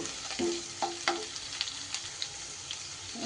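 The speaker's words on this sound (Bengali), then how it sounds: "দুই টেবিল চামচ কাজু আর দুই টেবিল চামচ কিশমিশ এগুলোও আমি আলুর সাথে সুন্দর করে ভাজা ভাজা করে নেব" Cashews and raisins frying with potatoes over a low flame make a quiet, close sizzle, with light spatula scrapes and taps spread through it.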